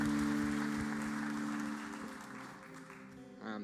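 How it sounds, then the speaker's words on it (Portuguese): A church congregation claps together during a worship service, a dense patter over sustained musical tones that fades after a couple of seconds, with no voices. "Você pode aplaudir mais forte ao Senhor?"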